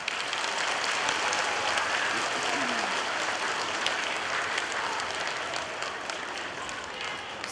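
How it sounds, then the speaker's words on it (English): Sustained applause fills a school assembly hall for students receiving an honesty award, a dense steady wash of clapping from a large crowd that holds for the whole stretch and only begins to thin near the end. "Let's give them a round of applause."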